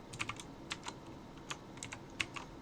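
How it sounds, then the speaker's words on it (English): Typing on a computer keyboard while writing a LaTeX document in Emacs: soft, irregular key clicks in small bursts, faint and close, with no talking. "I can type hello world"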